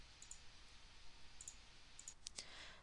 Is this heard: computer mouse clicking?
yes